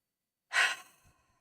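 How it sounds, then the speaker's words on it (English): A single audible breath during a guided breathing exercise, breathing in and out through the nose, heard as one soft airy rush that trails off quietly, alone with no talk. "Inhale through your nose, out."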